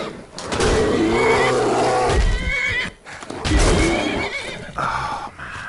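A horse in Skyrim VR neighs loudly and up close in long, strained whinnies, two main calls separated by a brief pause, with a shorter snort-like burst near the end.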